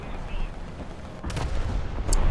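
A tank gun fires in the War Thunder video game, a sudden boom rolling into a low rumble partway through, over steady game noise with a brief bright ping near the end.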